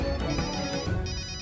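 A phone rings with a melodic electronic ringtone, repeating tonal notes at a steady pace, fairly clear and close with no talk over it.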